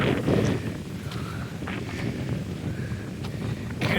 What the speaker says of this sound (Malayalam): എന്തൊരു കാറ്റ്, കിടിലൻ കാറ്റടി.